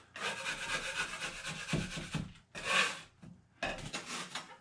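A drywall knife scrapes high spots off setting joint compound on a patch, giving long rough rasping strokes in close, steady passes with brief pauses between them.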